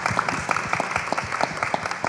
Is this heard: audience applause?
yes